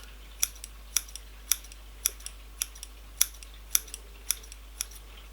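Crisp, close snips of scissors cutting bangs freehand, about a dozen in a steady rhythm of roughly two per second, with no one speaking.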